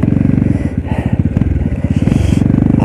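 A KORAK 110cc motorcycle ridden flat out near an airport, its engine holding a loud, steady, throbbing drone with a pulsing rhythm, heard close up over rushing wind.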